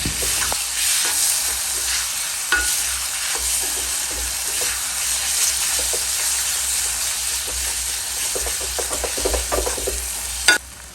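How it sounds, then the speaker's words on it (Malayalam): Chopped tomatoes and crushed green chillies fry in oil for a Kerala-style beef roast, a steady loud sizzle with repeated stirring scrapes and a sharp clank near the end. "ഇനി എല്ലാം കൂടി നന്നായി ഒന്ന് ഇളക്കി കൊടുക്കുന്നു"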